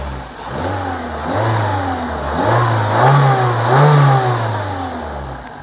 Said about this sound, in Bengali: একদম স্মুথ ইঞ্জিন সাউন্ড আপনারা দেখতে পাচ্ছেন।